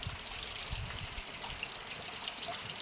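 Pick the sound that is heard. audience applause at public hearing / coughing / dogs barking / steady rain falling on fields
steady rain falling on fields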